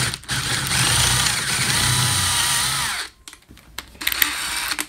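A power drill whines loudly as it bites through thin sheet metal for about three seconds, then stops, leaving faint clinks and handling noises.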